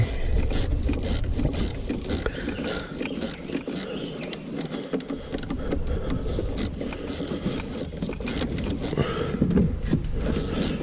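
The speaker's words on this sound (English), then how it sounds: "I'm using a 1/4" drive ratchet to get to it" A 1/4-inch drive ratchet turning a 13mm bolt in a tight spot during a Gen V supercharger swap, giving a continuous rapid clicking close by over a dense mechanical background.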